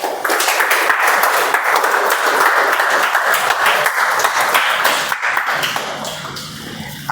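A meeting audience applauds with dense, steady clapping close to the microphone that holds for several seconds and then gradually tapers off.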